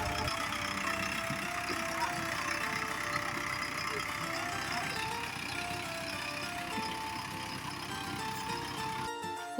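Steady rumble of a running tractor engine on a farm field, an even droning hum at middle distance that continues throughout and cuts off at the very end.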